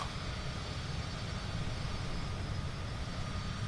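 Steady, loud drone of an airplane engine in flight over the Italian coast, a continuous broadband roar with a low rumble that holds unchanged throughout, no voices over it.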